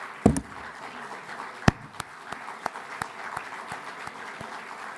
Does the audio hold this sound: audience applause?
yes